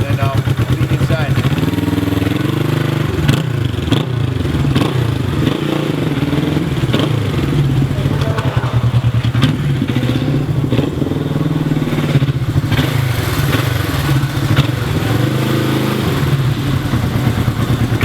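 A 1968 Honda CB450K1 motorcycle engine runs steadily and loudly throughout, a continuous mid-pitched mechanical drone with some clatter, close by and without talk over it.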